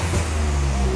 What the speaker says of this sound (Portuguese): Vamos esperar o carro esquentar aqui então, pra gente poder sair. Olha o barulho.